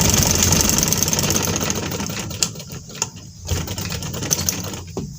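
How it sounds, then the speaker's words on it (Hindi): An electric sewing machine stitches a seam on a salwar, a close, steady mechanical whirr and rattle that slows and breaks into intermittent short bursts and clicks toward the end. "तो ये हमने सिलाई एक लगा लेनी है, 2 सिलाइयाँ सिर्फ हमारी लगनी है शलवार पे"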